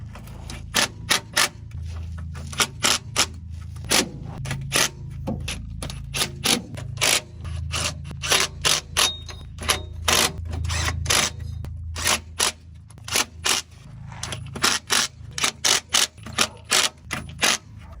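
Transmission pan bolts on a 1980 K30 Squarebody's TH350 are threaded in and snugged down. Close, rapid ratchet clicks come in irregular bursts with short pauses, over faint background hum.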